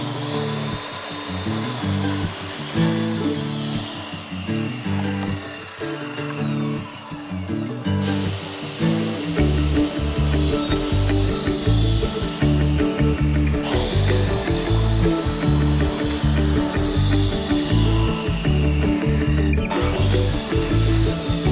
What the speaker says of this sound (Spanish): Aprovechamos nuestra estupenda sierra.